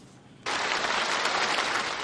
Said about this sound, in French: Des applaudissements nourris pour le nouveau président chinois Xi Jinping.